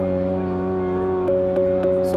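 An Elektron Digitone FM synth patch holds a steady harmonic tone, and a second delayed-envelope layer enters with short bright bursts repeating during the final second.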